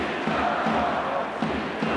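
Hockey fans in the Minsk arena cheer and chant during a 2014/15 KHL game between Dinamo Minsk and Salavat Yulaev. The massed crowd noise carries steadily with rhythmic shouts.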